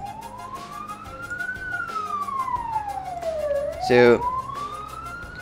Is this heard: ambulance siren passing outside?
yes